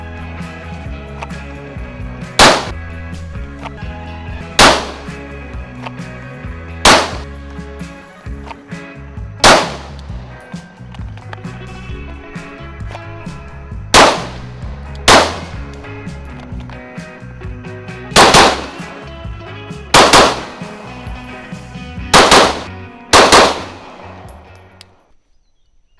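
Gunfire at a shooting range: about a dozen sharp, loud shots ring out at irregular intervals, some in quick pairs, over a steady droning background.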